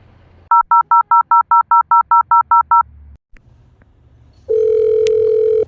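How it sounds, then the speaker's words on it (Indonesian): A telephone's touch-tone keypad beeps through about a dozen quick, evenly spaced dialing tones, followed after a short pause by a steady, loud line tone as the call is placed. "Bagaimana kalau kita hubungi Bung Karno terlebih dahulu?"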